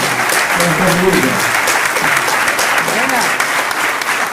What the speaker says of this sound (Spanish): Fuerte el aplauso para Abril, lo estamos agradeciendo.